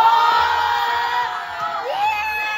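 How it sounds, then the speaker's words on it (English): Guests at a Christmas party scream and cheer loudly for the winner of a balloon game, a sustained high-pitched group shriek that dips slightly midway and then rises again. "If you want Emily to win, scream"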